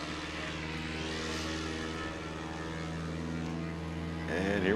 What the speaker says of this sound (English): And here we go on the takeoff roll. Michael Sisk in the Super Cub.